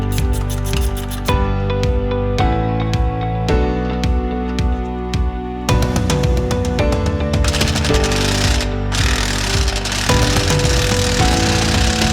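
A power tool, likely an impact wrench, hammers loose a 14 mm bolt on a Nissan GT-R upper control arm, with loud, close, rapid rattling bursts repeated over and over with no talking.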